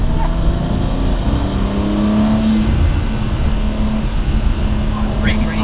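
Honda Type R accelerating hard on a drive, engine note climbing and holding as a strong droning tone inside the cabin, loud and continuous with voices now and then over it.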